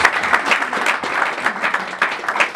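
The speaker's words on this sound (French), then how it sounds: "Acclamons le Seigneur pour de grandes choses." A church congregation in Lille Roubaix applauds in worship, a dense, steady burst of clapping from many hands throughout.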